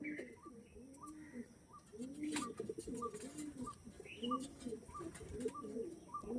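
Ghiyapatti pigeons coo in a steady, repeating rhythm, several birds close by, with occasional chirps and a constant background hum.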